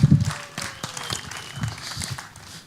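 Brief, moderate applause from an audience at a startup pitch competition final, a short burst of clapping with some thumps of footsteps as a presenter comes on stage.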